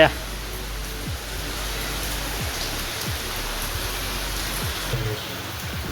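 Steady rain falling in a dense, even hiss, with faint low rumbles underneath and no clear voices.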